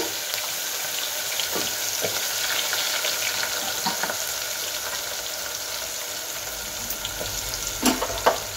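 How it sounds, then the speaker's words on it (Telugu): Onions fry in hot oil with dried chillies and fenugreek powder, giving a steady, dense, close sizzle throughout with a few soft stirring knocks near the end. "ఈ పెద్దలపాయలు ఎర్రగా వేగాలి బాగా"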